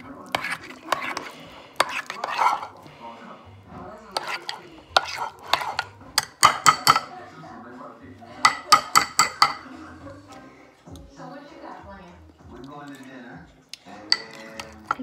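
A spoon or utensil stirs egg filling in a bowl, giving soft repeated scraping and clinking strokes in short bursts, with a person talking quietly in between.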